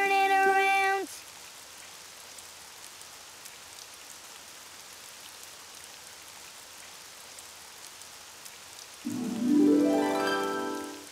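Steady rain falls outside in an even, continuous hiss, with brief tonal voices or music at the start and again near the end.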